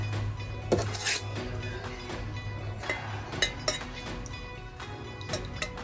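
Stirring red dye drops into candle wax in a container, repeated light clinks and taps of a utensil against glass over a low steady hum, close and continuous.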